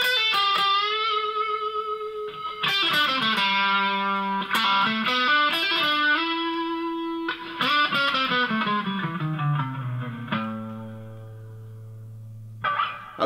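An electric guitar plays the slow melodic intro of a song, sustained notes ringing out with heavy reverb and long decaying tails, no voices.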